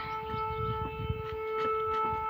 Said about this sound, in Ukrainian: І сирена годить, це відбій вже.